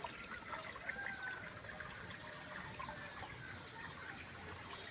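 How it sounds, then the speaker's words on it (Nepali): A forest stream trickles and flows steadily, a soft continuous wash of water heard from nearby with no talking over it. "यहाँ खोला चाहिँ खोरी खोला छ है"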